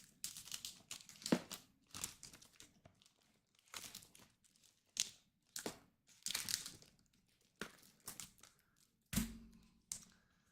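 A card envelope being opened and a deck unwrapped for the Aeon's End: Legacy of Gravehold board game, heard as repeated close crinkling and tearing bursts of paper and plastic with short pauses between, no talking.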